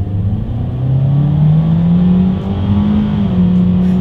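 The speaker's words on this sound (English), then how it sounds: "We're gonna do a quick little acceleration test" A 2022 Hyundai Kona small SUV's engine revs up hard and holds, the pitch climbing steadily as it accelerates, with a constant close rumble throughout.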